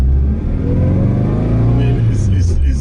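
A Saab Sonett III engine revs with a throaty, low growl, rising slightly toward the end, loud and close with a voice briefly over it.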